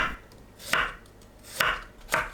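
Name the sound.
slicing garlic with a knife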